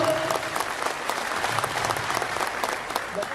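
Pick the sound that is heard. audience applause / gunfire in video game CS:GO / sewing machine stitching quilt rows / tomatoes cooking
audience applause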